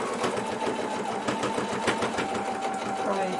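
Sewing machine stitching fabric for a Christmas tree skirt quilt block, a fast steady mechanical whirring and clatter running continuously up close, with a voice speaking over it.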